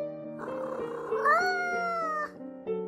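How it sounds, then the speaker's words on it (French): A cartoon cat meows in a children's animated tale, a single drawn-out, rising and wavering meow with clear tonal quality, close and alone without talk. "À ce moment, le chat s'approcha."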